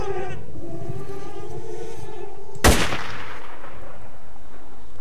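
A single sharp gunshot from a powerful gun in S.T.A.L.K.E.R. cracks out loud midway, ringing into a rough reverberant tail, after a steady droning hum of background ambience.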